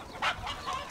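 A chicken clucks in short bursts, a few quick squawks close by amid a hectic outdoor chase, with no speech over it.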